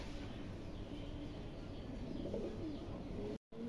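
A pair of yellow Lahori pigeons at a pigeon farm give soft, low, rolling coos over a steady background hum, with one call swelling clearly near the end.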